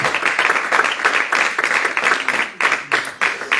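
A congregation at a French prayer teaching meeting applauds, steady clapping in pulsing waves, fairly close and filling the room without talk.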